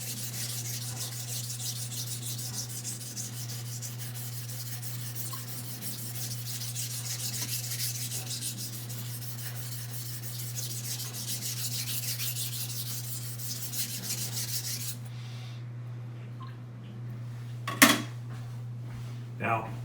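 A knife blade is drawn steadily over a 400 grit whetstone, giving a continuous close rasping scrape with a constant low hum underneath, then a few sharp metallic clicks near the end.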